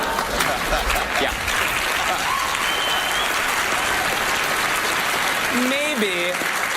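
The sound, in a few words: audience applauding on Penn & Teller Fool Us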